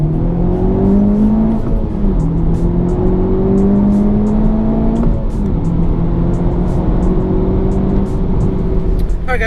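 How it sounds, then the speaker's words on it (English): A manual-transmission car accelerates hard through the gears, its engine pitch climbing steadily, then dropping briefly at each shift before rising again, loud and close throughout. "So what is the proper way to accelerate the car is to make sure you're in the proper gear"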